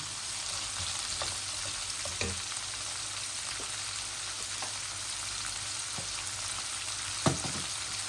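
Shrimp fry in a pan with a constant moderate sizzle, broken by a few faint clicks and taps of utensils against the pan.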